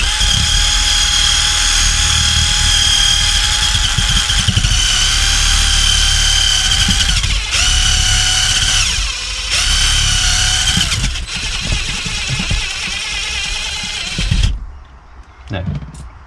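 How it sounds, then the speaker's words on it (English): A small polishing gun fitted with an 800 grit pad buzzes steadily against an antique French clock, a loud, close mechanical drone with a high whine that cuts in and out briefly before stopping near the end. "start off just with a brief pass with an 800 grit pad on a small polishing gun"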